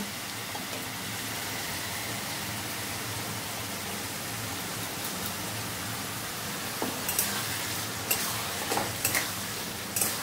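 Bottle gourd fries in a pan as poppy seed paste goes in. A soft, steady sizzle runs throughout, and a few sharper scrapes and clinks rise near the end.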